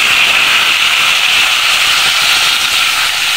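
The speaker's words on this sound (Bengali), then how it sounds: "তো এখন আমি এই তেলের মধ্যে চালতাটাকে ছেড়ে দিলাম।" Elephant apple (chalta) pieces dropped into hot oil in a kitchen pan give a loud, steady, close-up sizzle with a constant hiss.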